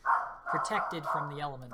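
A dog barks a few times in the background under a person talking, the yips loud and close.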